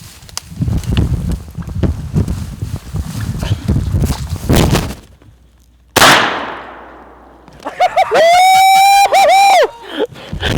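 A shotgun fires at Rio turkeys on an Oregon opening-day hunt, one sharp blast cracking out and ringing into a long fading tail after rustling and footsteps, then loud excited whooping voices follow.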